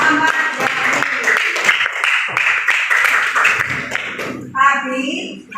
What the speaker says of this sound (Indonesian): Tepuk tangan untuk kelompok dari Muhammad Yamin.